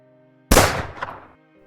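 A single loud, close pistol gunshot sound effect with a sharp crack that rings out and fades over about a second, with no other sound.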